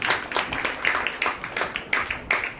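Rhythmic hand clapping in a Tamil church sermon on Jesus healing the ten lepers, about eight sharp claps at a steady pace, fairly close and alone without speech.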